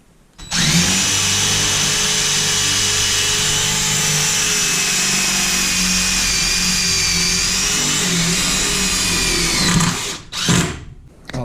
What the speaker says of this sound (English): I finished screwing all the 2x2s into the floor